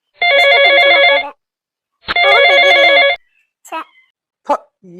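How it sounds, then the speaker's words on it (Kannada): A telephone in an animated cartoon rings in two long, loud electronic bursts close by, separated by a short pause and followed by a few brief vocal-like squeaks. "ರಿಂಗ್ ಆಗ್ತಾ ಇದೆ ಆಗ್ಲಿಂದ ರಿಂಗ್ ಆಗ್ತಿದೆ"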